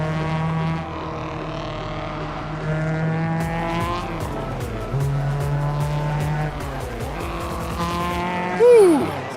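Simulated car drifting on a racing-sim drift server with the handbrake in use, engine droning steadily with shifting revs and a rising tire squeal near the end, heard alongside light game sounds.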